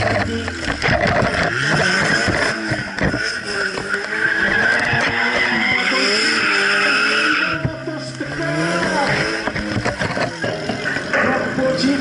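A 2008 KTM X-Bow sports car drifting at a drift show, its tires squealing continuously over a revving engine, loud and close, with a voice talking over the whole stretch.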